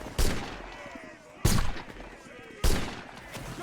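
Three loud, close rifle shots crack out about a second apart in a video game, each one trailing off in a short echoing decay.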